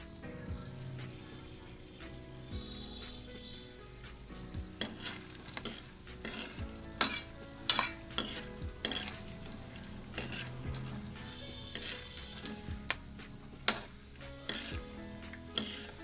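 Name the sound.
almonds frying in a pan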